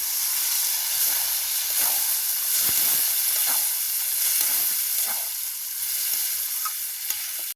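Fenugreek seeds and boiled dal hitting hot oil set up a loud, steady hissing sizzle with bursts of steam, heard close up and continuous, with a few faint stirring clicks and no voices.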